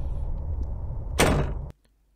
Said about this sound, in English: it was capturing the windy doors then